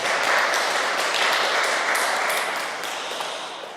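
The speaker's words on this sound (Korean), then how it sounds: "우리 찬양팀들 한번 박수하겠습니다" Church congregation applauding its praise team during a worship service, a dense, steady wash of clapping from many hands that holds loud for several seconds before easing slightly toward the end.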